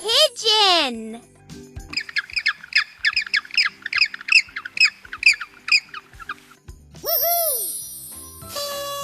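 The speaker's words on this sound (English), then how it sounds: "Pigeon." An animated pigeon gives a run of about a dozen short, rhythmic squawking coos, loud and close, framed by cartoon sound effects before and after in a kids' jigsaw puzzle game.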